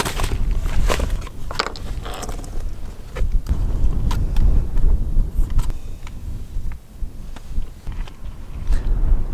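Gusty wind buffets the microphone in an open, remote spot, a loud rumbling roar that swells and drops in bursts with a few crackles and scuffing steps mixed in.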